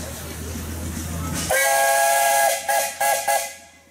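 A steam engine's whistle at a pioneer engineers parade in Rushville sounds close and loud, one long shrill blast followed by several short toots, over a low background rumble.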